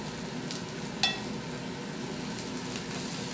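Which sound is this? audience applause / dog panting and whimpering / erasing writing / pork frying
pork frying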